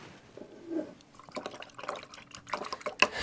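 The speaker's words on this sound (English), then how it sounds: "To wash out your brush again." A paintbrush is swished and rinsed in a water container, giving soft splashing, dripping and trickling sounds with a few sharp clinks near the end, close by and fairly quiet.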